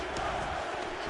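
Crowd at an EFC mixed martial arts fight night erupting in cheers after a knockout, a brief dense roar of many voices at moderate level.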